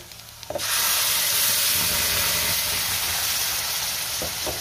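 Tomatoes dropped into a hot pan for Marathi-style tomato chutney with green chili and coriander, setting off a sudden loud, steady hissing sizzle after a quieter start that carries on to the end.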